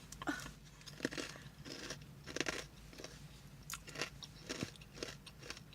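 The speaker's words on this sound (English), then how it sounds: "Since when did a waffle make a crunchy sound?" Sharp crunching bites and chewing into a McDonald's breakfast waffle, a series of crisp crackly bursts close up, repeated irregularly with no one speaking.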